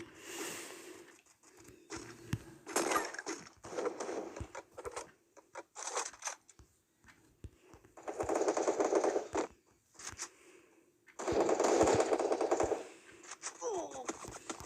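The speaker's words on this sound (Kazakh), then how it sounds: "Арттан бирөө атты." Gunshots in the Free Fire battle royale game, with rapid automatic bursts and scattered single shots over several seconds, loud at times and fainter between, mixed with other game sounds.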